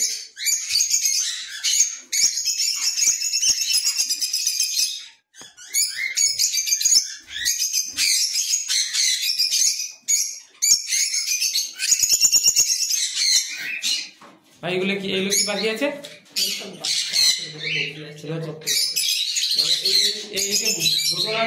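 Budgies and cockatiels chirp and squawk busily in a bird loft, a dense chorus of high calls that fills the space, with a man asking questions in Bengali over the birds.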